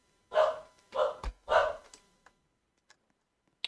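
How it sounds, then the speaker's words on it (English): A dog barks three times in quick succession close by, followed by a couple of faint clicks, heard behind gameplay of a Roblox horror map. "That's my dog barking."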